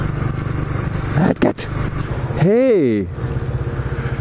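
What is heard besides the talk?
passing motorcycle engine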